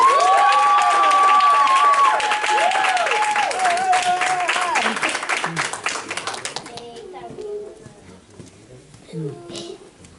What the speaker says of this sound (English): start clapping your hands right now